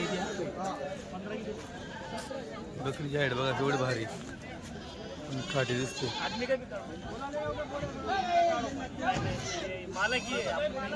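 Goats bleat repeatedly at a busy village goat market in Dhule, the animals' calls rising over constant close-up talk and background crowd chatter.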